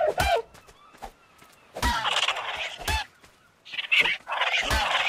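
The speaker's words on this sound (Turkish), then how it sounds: "Şimdi şurada bir dodomuz var" A dodo from the game ARK gives several short honking, goose-like calls in uneven bursts, close and fairly loud, separated by brief quiet gaps.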